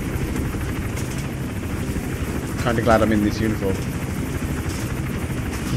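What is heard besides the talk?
helicopter hovering in video game Hitman Absolution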